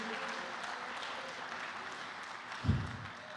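Congregation clapping in a church service for Jesus, a steady distant wash of applause with a brief louder thump near the end.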